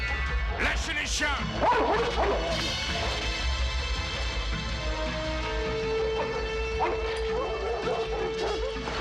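Several dogs bark and yip excitedly amid shouting voices and crashing commotion in a French action-film chase, loud and close, with a sustained tone underneath later on.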